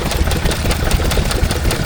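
A Lister D stationary engine driving a water pump at a rural show, loud and close with a rapid, steady knocking beat over a continuous mechanical clatter.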